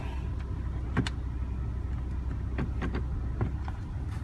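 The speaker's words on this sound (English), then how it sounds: "just let the car run for now" A Volkswagen Tiguan engine idles steadily in park, a low continuous hum close by, with a few faint clicks and knocks over it and nobody speaking.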